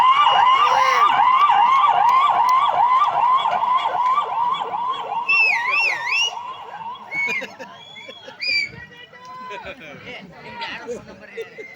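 A comedian at a village temple fair imitates an ambulance siren with his voice, giving a rapid rising-and-falling wail that repeats steadily, then slower sweeping whoops and a few trailing vocal glides, close and loud.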